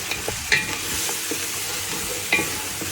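A spoon scrapes and stirs through tomato sauce in a pan, with soft sizzling underneath and a couple of light clinks against the metal.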